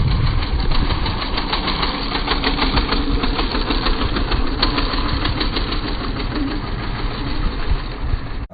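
A small go-kart engine revving hard in a yard while the kart drifts and slings dirt: a loud, buzzy, rapidly pulsing motor note held steady and close for several seconds.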